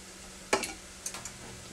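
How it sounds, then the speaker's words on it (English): Onions and green pepper sautéing in a pan, a quiet steady sizzle punctuated by a few sharp scraping clatters of stirring in two short clusters. "I got those onions and green pepper sauteing"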